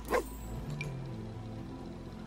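A single short dog bark from The Sims 4 pet play snaps out near the start, loud and close, followed by a quieter yip and low game background hum with no talking.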